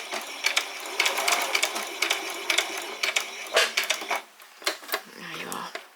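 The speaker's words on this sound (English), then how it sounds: "We just need to do another little back stitch." A sewing machine making a short back stitch on a basic dress, heard as close, irregular clattering bursts of needle strikes with uneven pauses between them.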